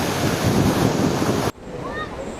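A rushing waterfall stream in Dumnaga Valley, Kashmir, roars loud and close for about a second and a half, then cuts off to a quieter wash of water with a few high chirps.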